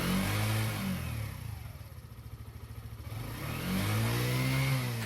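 A motorcycle engine revs up from idle, holds a higher rumbling pitch, then settles back down, close and loud, while a charging system test is under way.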